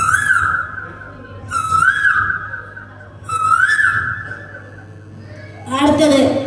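At a special school's Christmas celebration, a child imitates a koel's call with the voice. Three clear, rising whistled calls are separated by short pauses, followed by a rougher vocal burst at the end.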